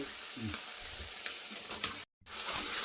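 Tofu stir-fries in a pan with Japanese seasonings, making a continuous close sizzle broken by spatula scrapes and stirring. The sound cuts out for a moment, then the frying resumes.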